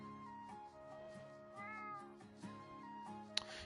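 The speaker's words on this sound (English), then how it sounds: "Really meows too much." A giant cat in the Genshin Impact video game meows repeatedly, short mewing cries over a soft layered game music bed, with one louder chime-like blip near the end.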